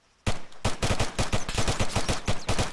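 Rapid bursts of automatic gunfire in a roleplay video game, loud and close, with repeated sharp shots in an irregular stuttering rhythm after a brief silent start, no talking.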